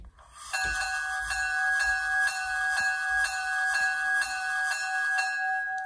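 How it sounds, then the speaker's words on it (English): Electronic bell from a sound decoder in a Rapido HO scale HEP E-8A Conrail diesel model locomotive, ringing steadily in an even repeating clang for several seconds over a faint hiss, with no talking. "F1 will do the bell."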